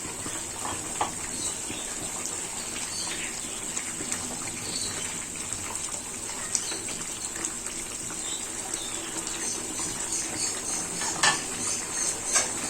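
Moong dal simmers in a pot as rohu fish head is added, with a steady bubbling hiss and occasional light clinks of a utensil against metal, close and moderately loud.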